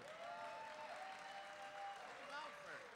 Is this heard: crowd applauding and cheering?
yes